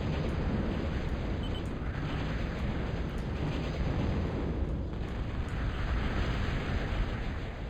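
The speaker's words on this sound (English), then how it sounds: "Just oppressive bombing." Bomber aircraft bombing in Total Annihilation keeps up a steady, loud, rumbling roar of overlapping explosions for several seconds, with a faint high-pitched tone running above it.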